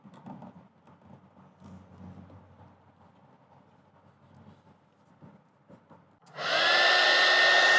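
A heat gun blows loud and steady close by after a stretch of quiet handling noises, used while fitting an overlay onto a 2021+ Ford Bronco door handle to eliminate the silver trim.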